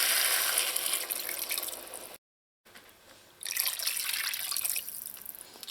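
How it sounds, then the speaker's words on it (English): Water pouring into a pot of cooking eddoes, a close splashing trickle that cuts off briefly, then resumes, with no talking. "now I'm going to add enough water to help this cook"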